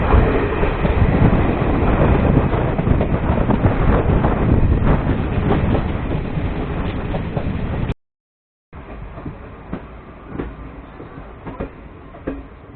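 The Delhi Dehradun Mussoorie Express rolls along with a loud, steady rumble and clatter, with wind buffeting the microphone. The sound drops out briefly and then resumes as quieter, muffled running with occasional clacks.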